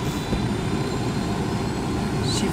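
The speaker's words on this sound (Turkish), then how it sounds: "Helikopter kullanıyoruz be." A helicopter in the video game Ghost Recon Wildlands flies with a loud, continuous engine and rotor roar that stays steady throughout, with no talking.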